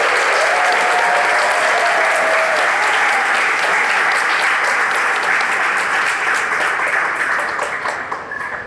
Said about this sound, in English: Let's have a huge round of applause for our 52 interns.